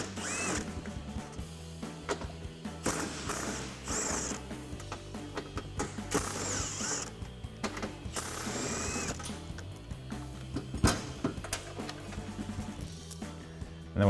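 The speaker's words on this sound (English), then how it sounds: "We'll grab a 13mm socket to remove these." A 13mm socket working bolts loose from a Jeep Gladiator JT front bumper bracket, with bursts of mechanical whirring and clicking that start and stop irregularly over a garage background, fairly close.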